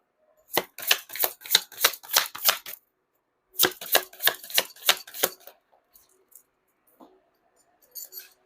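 Tarot cards shuffled in two quick bursts of crisp, riffling flicks, close and clear, followed by a few soft taps and light handling sounds as cards are pulled.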